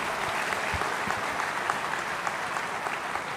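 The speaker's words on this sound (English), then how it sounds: "Give yourselves a big round of applause." Graduates at the IIT Bombay 60th convocation break into a dense, steady round of applause, loud and continuous from start to finish with no speech over it.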